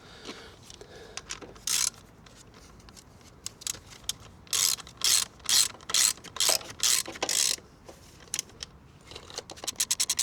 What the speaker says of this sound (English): Now we can tighten our sprocket.